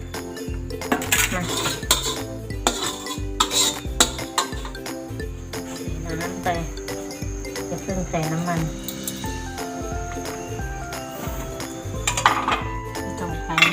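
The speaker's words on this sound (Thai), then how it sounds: "คลุกกับไอเส้นเลยนะคะ ต้องใช้คลุกเลยแล้วก็ผัด" Noodles for rad na being tossed and stir-fried with soy sauce in a pan, with steady scraping and clinking of a utensil against metal, close and continuous beneath background voices.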